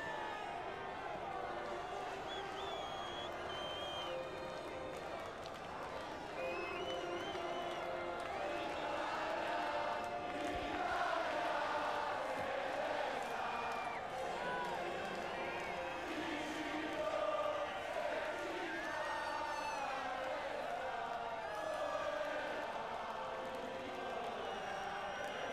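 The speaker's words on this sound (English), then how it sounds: "The crowd chant his name." MotoGP fans at the 2004 Italian Grand Prix, a large distant crowd roaring and chanting in a sustained, rhythmic swell, with voices talking over it throughout.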